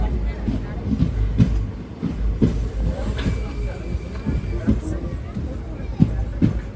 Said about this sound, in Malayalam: ട്രെയിൻ അങ്ങനെ പരമക്കുടി റെയിൽവേ സ്റ്റേഷനിലേക്ക് എത്തിയിരിക്കുകയാണ്.